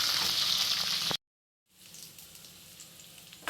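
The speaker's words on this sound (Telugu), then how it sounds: "ఇవిలో ఫ్రై అయిన తర్వాత ఆనియన్స్ మిర్చి కరివేపాకు యాడ్ చేసుకుని ఇవి కూడా ఫ్రై చేసుకోవాలి" Onions, green chilies and curry leaves frying in hot oil, a bright close sizzle that breaks off into a brief silence, then comes back softer and lower.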